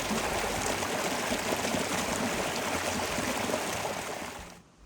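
Creek water on a winter homestead flows steadily and fairly close, a continuous broad rushing wash with no voices, fading out just before the end.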